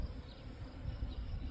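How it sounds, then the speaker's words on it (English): Honey bees buzz around their hive after a swarm, a steady low drone with a faint, close insect hum throughout. "They're still buzzing around a bit, but they all seem to be in the hive for the most part."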